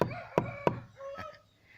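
Metal spring wire being straightened by knocking: three sharp ringing taps in quick succession, then a fourth lighter strike, each with a brief metallic ring and close by, no talk.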